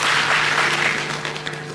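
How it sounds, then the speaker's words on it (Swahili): An audience at a 2023 KCSE results release event applauds, a dense, steady wash of clapping that fills the whole moment and slowly tapers toward the end. "Situpige makofi hiyo kidogo."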